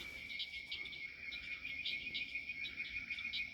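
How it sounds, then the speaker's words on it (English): A whippoorwill calling at night in the outdoors, its repeated phrases carrying over a steady, dense drone of insects, with a faint low rumble underneath. "Can y'all hear that whippoorwill?"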